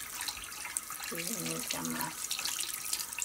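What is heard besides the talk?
water running from a tap for washing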